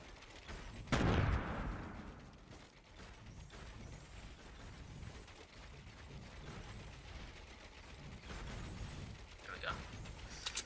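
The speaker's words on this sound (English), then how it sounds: "shoot the tree down" Video-game gunfire aimed at a tree, a loud burst of shots at the start followed by rapid mechanical clicking and rattling at lower level, with a few more sharp reports near the end.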